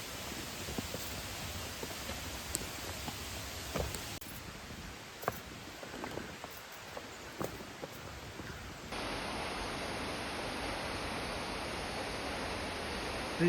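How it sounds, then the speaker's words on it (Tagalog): Hulugan Falls, a waterfall in Laguna, heard from the trail as a steady broadband roar that holds throughout and grows fuller and louder partway through, with a few faint footsteps or rustles over it. "Rinig ko na yung tunog ng talon."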